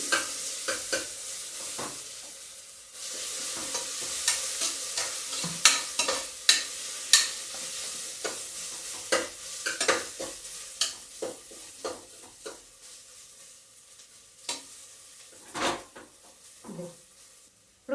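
Fresh ginger-garlic paste frying in hot oil for a spinach mutton curry, stirred with a utensil: a steady loud sizzle with repeated scraping and clinking strokes throughout, no talking.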